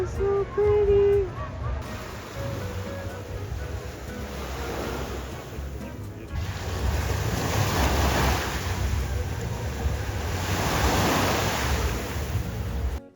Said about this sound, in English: Wow, look at this beach.